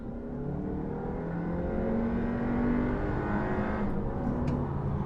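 Audi Q3 subcompact SUV, with an engine similar to the Volkswagen GTI's, pulling at full throttle: a steady, loud engine drone that climbs slowly in pitch from start to finish, with no talking.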